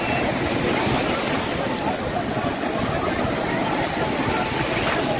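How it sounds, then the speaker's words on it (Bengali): A speedboat runs out at sea off Digha beach, giving a loud, continuous broadband rush of engine and churning water without a break, and faint talk may sit underneath. "সমুদ্রের সৈকতের 4 কিলোমিটার দূরে নিয়ে যাবে এই স্পিড বোটটাকে"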